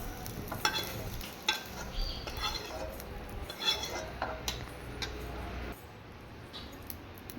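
Vegetables stir-frying in oil in a pan for egg fried rice, with a busy sizzle under steady scraping and clinking of a utensil against the pan, close and continuous.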